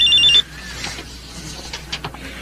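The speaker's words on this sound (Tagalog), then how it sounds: "May tumatawag sa'yo." A cellphone rings with an incoming call, a brief bright electronic ring at the very start that cuts off quickly, followed by quiet room sound.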